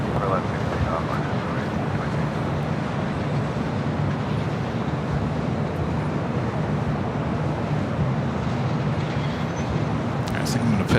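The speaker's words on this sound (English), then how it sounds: "777 freighter going to be taking off on the south side." A Boeing 777 freighter takes off at Los Angeles International Airport with a broad, steady jet roar, loud and unbroken, with wind buffeting the microphone.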